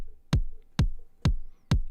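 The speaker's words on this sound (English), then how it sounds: "You hear that, how there's a kind of a little click on the initial attack of the kick drum?" Four evenly spaced synthesized kick drum hits, each with a sharp clicky attack and a deep pitch-dropping boom, played alone in a steady pulse.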